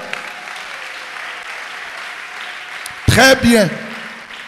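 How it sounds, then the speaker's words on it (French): A church congregation bursts into loud applause for the Lord in two close bursts, with a preacher's voice speaking briefly beforehand over a quiet room. "On acclame tous le Seigneur."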